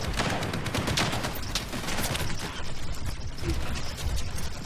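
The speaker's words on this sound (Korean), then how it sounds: "잠깐만 총알 바꿔야겠다" A gun is handled and reloaded in Stalker 2, with quick mechanical clicks and ratcheting under dense, continuous combat noise and bursts of gunfire.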